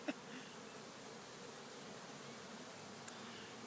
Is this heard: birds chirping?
no